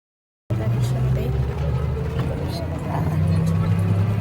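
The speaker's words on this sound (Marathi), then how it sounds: "रिक्षाचा प्रवास." An auto rickshaw carries passengers through busy streets on the way to the Mahakaleshwar temple, its small engine droning steadily over road rumble while people talk near the microphone.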